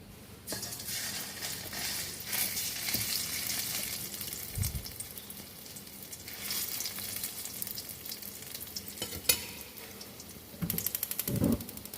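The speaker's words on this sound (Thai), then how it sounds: "เราจะตักพริกแกงนะคะ ที่เราตำผสมกับพริกแกงสำเร็จรูปนะคะ ใส่ลงไปในกระทะค่ะ" Panang curry paste, pounded with chili and garlic and mixed with ready-made paste, sizzles steadily in a hot wok, with close stirring scrapes and a few sharp clinks.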